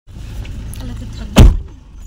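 A car boarded for a ride to Shalimar station: a low engine idle hums close by, then a single sharp door slam thuds loudly near the middle before the rumble settles again.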